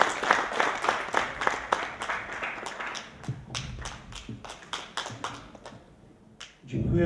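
An audience at an awards ceremony claps, with sharp individual hand claps standing out in uneven rhythm, then thinning to scattered claps and a thump as it dies away near the end.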